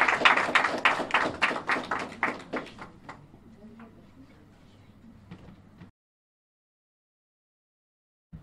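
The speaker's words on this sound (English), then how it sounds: "Round of applause" Applause from a small audience at a 2018 scholarship awards ceremony: brisk, close clapping that thins out and fades over about three seconds, a few scattered claps, then silence.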